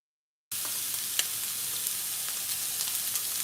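Steak frying in a pan, a sudden start into a steady, bright, hissing sizzle with occasional small pops, close and even throughout, with no talking.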